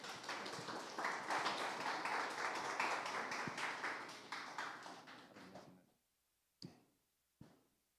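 An audience applauds to welcome a speaker at a Web3 AI event in Seoul, a dense round of clapping that fades out after about six seconds, followed by two isolated taps.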